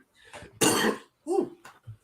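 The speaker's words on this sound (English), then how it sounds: "Excuse the cough, people." A single sharp cough bursts out up close, followed by a brief throat-clearing rasp and a short murmur.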